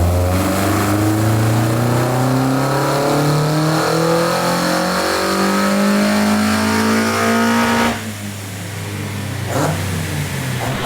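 A K-swapped Toyota AE86 with individual throttle bodies screams on a dyno, its engine note climbing steadily under full load for about eight seconds before cutting off abruptly, then settling into a rough idle, loud and close.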